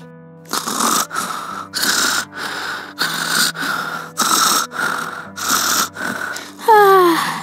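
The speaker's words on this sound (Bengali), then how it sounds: "আরে দুষ্টুর বাবা তো কি জোরে জোরে নাক ডাকছে" A man snores loudly and steadily, about eight deep rasping breaths in a slow regular rhythm close by, with a whistling squeak near the end; no one speaks.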